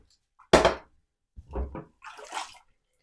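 Water splashes and rinses through Pinter 3 parts as they are cleaned and sanitised, in a few short irregular bursts: one louder gush, then two softer runs of splashing, close by.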